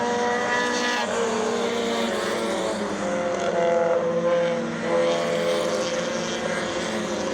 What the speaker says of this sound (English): We got a race going on here, a little Miata racing.